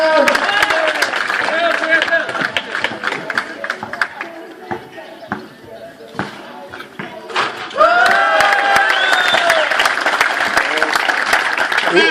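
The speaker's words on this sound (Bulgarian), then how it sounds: "много моля да чуя вашите аплодисменти за Паулин Жерлин" Crowd at a basketball dunk contest in Rakovski, Plovdiv applauds and cheers a participant in steady loud bursts, with voices and shouts mixed through and a stronger swell of cheering near the end.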